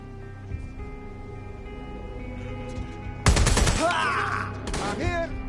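Automatic gunfire in the video game Watch Dogs: Legion, a sudden loud burst of rapid shots erupting partway in and continuing with a second volley, over a low game background hum.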